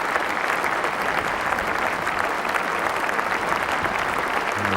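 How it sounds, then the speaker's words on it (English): A cricket crowd applauds as Dean Jones reaches his half century, steady dense clapping at a constant level filling the whole stretch with no break. "There's Jeff Lawson applauding there"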